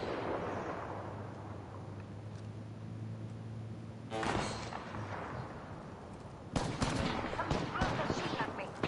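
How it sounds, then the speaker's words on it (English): Gunfire bursts from Apex Legends gameplay: a low engine-like drone gives way to a sharp burst of shots, then louder rapid fire crackles close by, with speech faintly underneath. "Flunkers shooting at me."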